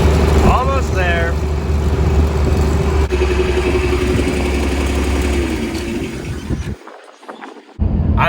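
A tractor's engine drones steadily at close range as it drives out to the field, riding very rough on tires with flat spots from sitting unused, with a voice speaking over it.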